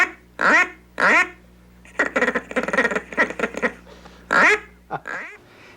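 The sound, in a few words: boy blowing a duck call, imitating duck quacks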